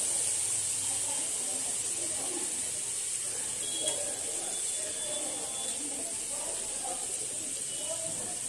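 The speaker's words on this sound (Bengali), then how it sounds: "এবার আমি ওই ভাজা ডিমগুলো এর মধ্যে দিয়ে দিলাম।" Fried eggs go into a pan of spiced potatoes that keeps up a steady, close sizzling hiss throughout, with faint stirring clinks and a voice talking quietly underneath.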